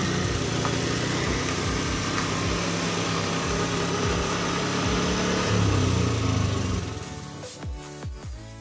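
A Honda scooter engine with a weak fuel pump revs close by, holding a steady rough drone that surges unevenly through the mid range before dropping off near the end.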